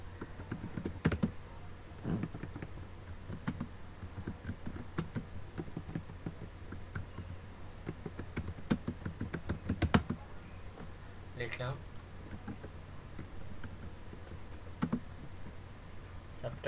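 Keys clack steadily on a computer keyboard while title text is typed into a PowerPoint 2007 slide, an uneven run of close, crisp taps with short pauses, and a voice talks softly underneath.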